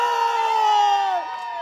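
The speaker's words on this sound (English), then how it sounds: "My dad was the one who was screaming" A father screams and cheers at a youth baseball home run, a loud, sustained high-pitched yell that bends downward near the end, with crowd cheering behind it.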